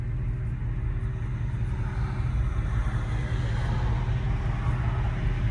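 A 1965 Ford Mustang Fastback with a 302 V8 rumbles loudly and steadily from inside the car as it pulls along the road, with a deep, continuous engine drone throughout.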